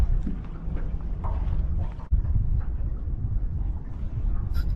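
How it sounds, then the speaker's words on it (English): Gusty wind buffets the microphone on a boat out squid fishing on southern Port Phillip Bay, a low, uneven rumble with a brief sharp dip and faint splashy bursts near the end. "that's the first sign of any real wind we've had today"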